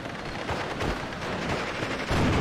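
Gunfire aimed at a Panzer IV-J tank in the WWII strategy game Steel Division: Normandy 44 sounds as a dense, continuous battle din of overlapping shots and booming impacts, with a heavier blast near the end.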